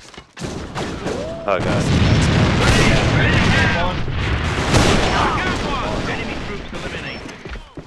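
A breaching charge detonating in a video game, a loud sustained blast with rumbling debris and crackling gunfire that fills the space for several seconds, with a voice briefly exclaiming.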